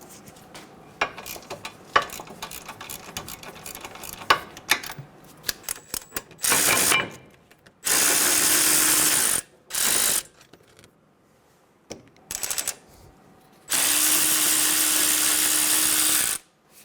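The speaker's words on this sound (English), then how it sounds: "Using a 17mm socket, break the caliper bracket bolts free." A ratchet with a 17mm socket works the front brake caliper bracket bolts loose on a 2011-2014 Hyundai Sonata. Scattered close clicks give way to several loud, steady mechanical bursts of a few seconds each, with no talk.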